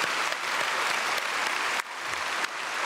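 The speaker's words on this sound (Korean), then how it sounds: "오늘 박수로 크게 맞이하겠습니다." A large church congregation at a Sunday worship service applauds loudly and continuously, a dense, even wash of clapping that dips briefly and swells again.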